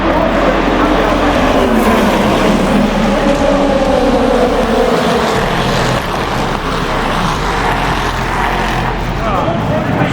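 IMSA race cars roar together at a race start on a track, a dense, steady mechanical wash that stays loud throughout, with a crowd and voices mixed underneath.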